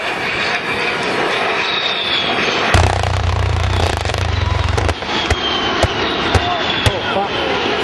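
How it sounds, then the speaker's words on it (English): An A-10 Warthog jet roars past at an airshow, a loud broad rumble swelling midway through, with a crowd and announcer faintly under it. "Here you go, ladies and gentlemen, the A-10."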